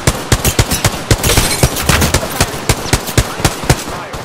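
Rapid bursts of video game gunfire in Season 6 Voidwalker, a steady rhythm of loud, sharp shots crackling close by with a brief denser volley in the middle and no talking.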